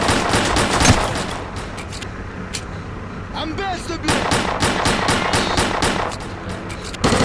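Gunfire and machine gun bursts from the video game S.T.A.L.K.E.R.: Clear Sky rattle almost continuously, with loud rapid shots, scattered single reports and a short tonal game effect midway.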